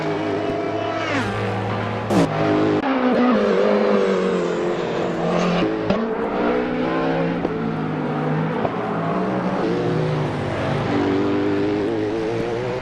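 Le Mans Daytona hybrid (LMDh) race car driven hard in Assetto Corsa, its engine screaming loud and close through repeated rising revs and quick gear shifts.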